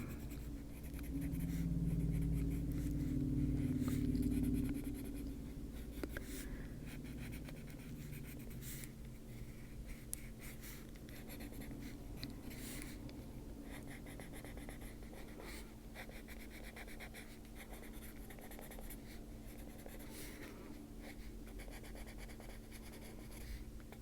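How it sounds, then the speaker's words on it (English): Pencil scratching steadily over a paper snowflake, a continuous dry writing sound close up, with no one talking. "Just going to go over it real quick with this pencil."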